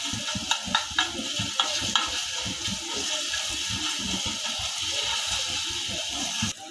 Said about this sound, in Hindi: अब इसके अंदर शामिल करेंगे 1/2 चम्मच लहसुन अदरक का पेस्ट। इसको थोड़ा सा भून लेंगे।